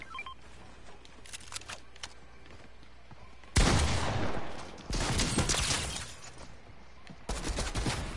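Gunfire in a video game shooter comes as three loud, sustained bursts with quieter scattered shots between them, heard alone without talk.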